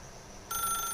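A telephone begins ringing in The Stanley Parable, a steady electronic trill that starts abruptly after a quiet room hum and continues at moderate volume.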